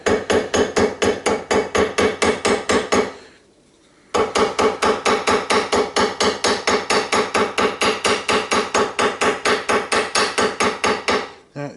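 A ball peen hammer taps rapidly and evenly to cut out a paper gasket, a long run of sharp close blows. There is a brief pause partway through, then the tapping resumes.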